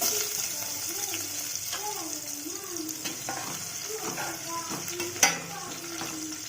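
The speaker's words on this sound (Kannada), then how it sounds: "ಎಣ್ಣೆ ಕಾದ ನಂತರ ಈ ಹಾಗಲಕಾಯಿಯನ್ನು ಅದರಲ್ಲಿ ಫ್ರೈ ಮಾಡಿಕೊಳ್ಳೋಣ" Bitter gourd pieces fry in hot oil for a bitter gourd curry, giving a steady close sizzle and crackle with occasional stirring scrapes and one sharp clink of a utensil against the pan.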